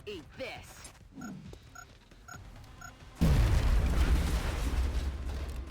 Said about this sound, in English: starting with a grenade from Emilia